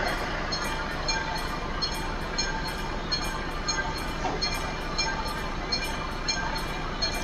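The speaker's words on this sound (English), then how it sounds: "Yeah, a generic train as well." A generic train in the Euro Truck Simulator 2 driving game rolls past with a steady rumbling roar and rhythmic clickety-clack of wagons, loud and continuous throughout.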